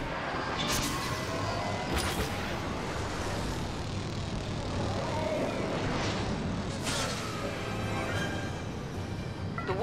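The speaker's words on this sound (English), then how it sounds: "Y-wing tracking signal online. Bombers are making their attack run." Y-wing bombers fly an attack run over a Tatooine battle in Star Wars Battlefront (2015), a steady loud engine roar with swooshing passes overhead amid continuous battle noise.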